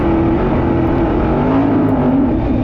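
A 410 sprint car engine roars steadily at high revs around a dirt racing track, a loud, close, sustained drone with a slowly shifting pitch and no talking.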